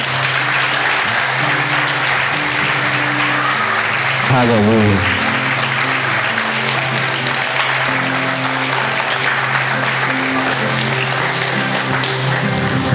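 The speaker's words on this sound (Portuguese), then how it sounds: "Você pode aplaudir o Senhor por isso?" A church congregation at a Mevam Passo Fundo service gives loud, sustained applause. Steady musical tones and a voice calling out run underneath the clapping throughout.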